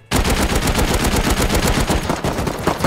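Turret fire in a raiding video game, a loud, sustained rapid burst of automatic gunshots that hammers on almost without pause for nearly three seconds, close and overwhelming with no voices.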